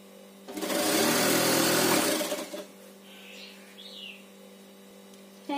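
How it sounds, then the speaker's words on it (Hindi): A sewing machine runs a straight stitch to attach a fall along the edge of a saree, a loud steady whir lasting about two seconds that then stops, leaving faint bird chirps in the background. "अब हमें ये सीधी सिलाई लगाते जाना है।"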